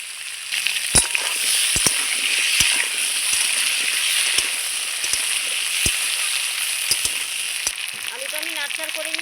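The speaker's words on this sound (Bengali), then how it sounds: "এই আলুটা আমি একটু হালকা সুন্দর লাল লাল করে ভেজে নেব।" Potato pieces frying in hot oil in a pan, a continuous bright sizzle with crackles and sharp pops scattered irregularly, close up, with a few brief soft sounds of stirring.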